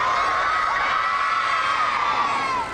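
A crowd of around 500 people, mostly school students, shrieks and cheers for the Silver Ferns netball team at Parliament after their World Cup win, a dense, high-pitched sustained roar that fades slightly at the end.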